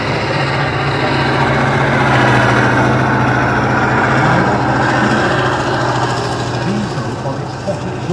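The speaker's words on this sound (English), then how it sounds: "the rather smoky, sinister looking beast driving around at the moment, that's the T-72." A T-72 tank drives around the display arena at Tankfest, its big diesel engine giving a steady, loud rumbling drone with a low throb throughout. Continuous crowd and arena noise sits beneath the engine.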